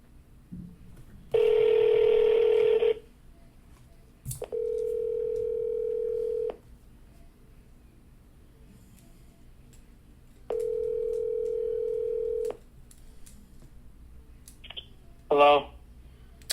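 An outgoing call's ringback tone sounds in three long steady bursts separated by quiet pauses, followed by a brief clicking tone at the end.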